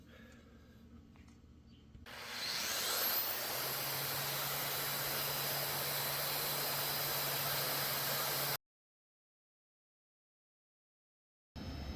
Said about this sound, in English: I'm just using a belt sander for basically everything so far.